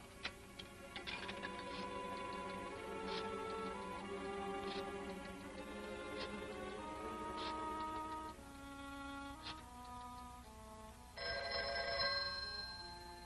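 Old-fashioned telephone bell ringing in a 1948 crime serial, repeated ringing bursts at a steady pace over faint background music, moderately quiet, with no talk.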